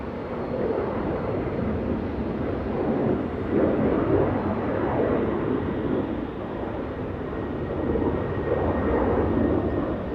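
A Southwest Airlines jet arriving from Denver touches down at Los Angeles International Airport, with a loud, continuous engine rumble and roar rising and falling gently over ten seconds, no voices present.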